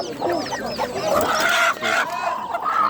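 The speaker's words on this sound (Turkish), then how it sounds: "Civcivleriyle birlikte tavuklar var." Hens and chicks at a poultry market in Kırıkkale, a close, busy chorus of clucking and high cheeping peeps that overlaps continuously, with no talk over it.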